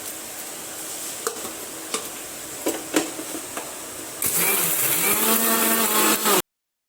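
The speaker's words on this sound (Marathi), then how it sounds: "एक बिस्किट आता यांचं पूर्ण मिक्सरमध्ये एकदम चुरा करून घ्यायचे" A few light clicks in a quiet room, then a mixer grinder crushing biscuits whirs loudly and steadily for about two seconds before cutting off abruptly.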